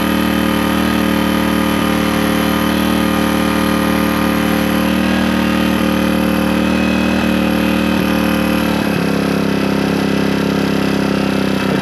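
A Suzuki DR200S single-cylinder motorcycle engine fitted with a Nibbi carburetor idles loudly and steadily while the idle mixture screw is adjusted, its pitch wavering slightly and dipping briefly near the end.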